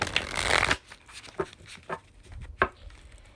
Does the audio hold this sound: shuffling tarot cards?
yes